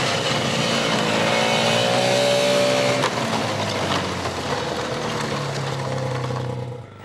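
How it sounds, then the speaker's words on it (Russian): Newly acquired snowmobiles of a regional emergency ministry department, fitted with sleds for evacuating people, drone steadily nearby. The engines rise in pitch as they rev during the first few seconds, then settle into a rough, continuous mid-range roar. "Технічны парк областного управления Министерства по надзвичайных ситуациях пополнили снегоходы."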